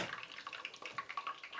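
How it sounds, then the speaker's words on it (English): Hands being washed under a running kitchen tap, a soft splashing water flow with small irregular spatters, faint and close, with no one talking. "Wash my hands."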